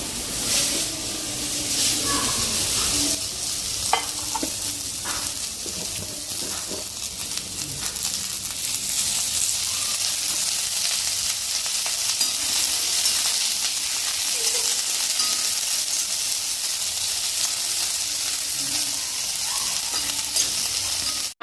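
Chopped onion sizzling steadily in a pan, browned to a pink-golden colour for a vada sandesa curry, a continuous close frying hiss with occasional light stirring scrapes, no voices over it.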